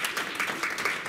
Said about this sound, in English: So please give another round of applause and welcome Dr.